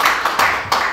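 A forum audience gives a short burst of applause, a few loud, close hand claps over about a second.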